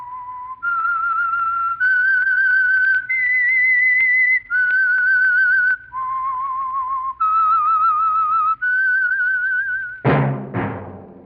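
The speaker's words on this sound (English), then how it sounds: "That whistle is your signal for the Signal Oil Program" A person whistles a slow, clear tune of sustained notes, one after another, ending with a bright plucked chord; the signal theme of the radio program The Whistler.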